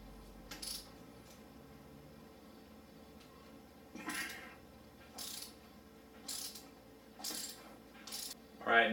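A wrench loosening the front sprocket bolt on a KTM 300 XC dirt bike makes several short metallic ratcheting clicks in spaced bursts, close and fairly faint, with quiet workshop background between them.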